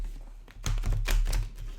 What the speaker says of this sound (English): I'm not good at shuffling the cards this way.